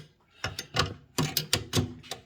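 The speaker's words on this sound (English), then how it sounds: "take our 11/32 nut driver, and there's going to be two bolts here" An 11/32 nut driver works two bolts loose on a Stern 007 pinball machine, giving a series of close, crisp ratcheting clicks in short bursts, about seven in quick groups.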